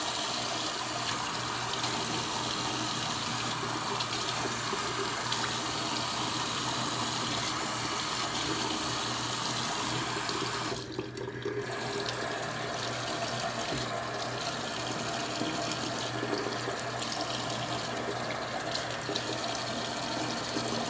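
Tap water runs steadily into a sink while a face mask is rinsed off, a loud, continuous close-up splashing rush with one brief dip midway and no talking.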